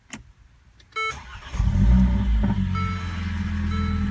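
A 2015 Mercedes CLA45 AMG starts up: a brief starter whir and chime, then the engine fires with a loud rising flare at close range and settles into a deep, steady, burbling idle.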